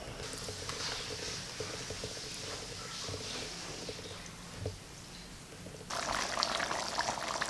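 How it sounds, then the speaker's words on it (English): Coconut milk being poured into a pot of curry chicken, a steady liquid gurgle and splash that grows brighter and fuller toward the end, close and fairly quiet. "Okay, I decided to add the rest of the coconut milk."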